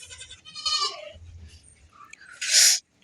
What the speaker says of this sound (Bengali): ছাগলগুলো কেমন খেলা করছে এদিকে